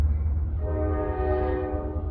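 Train in the Gran Turismo 3 racing game passing by, a sustained horn-like tone swelling and fading over a low rumble for about two seconds.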